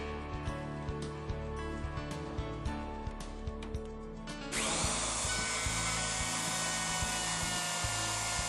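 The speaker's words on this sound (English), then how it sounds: "Adjustable width and end stops control the travel of the router during shallow mortising." A router cuts a shallow hinge mortise in wood, guided by adjustable width and end stops. It whines steadily with small ticking bumps, then jumps to a louder, brighter cutting roar partway through.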